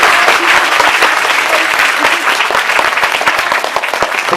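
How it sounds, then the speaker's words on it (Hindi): A school campus audience breaks into dense, sustained applause, loud and close throughout with no pause. "मैं चाहूंगा कि एक बार घनघोर तालियां इस कैंपस से"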